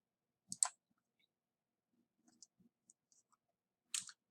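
A computer mouse clicks in a quiet room, two crisp close clicks at the start, faint small ticks in between and another double click at the end.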